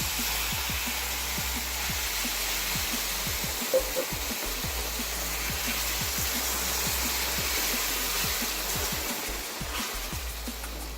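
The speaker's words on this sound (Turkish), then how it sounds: "Şimdi de sütümü ilave ediyorum." Milk is poured into semolina halva roasting with nuts in a hot pan, producing a loud, steady broadband hiss and sizzle that holds evenly throughout with no voices.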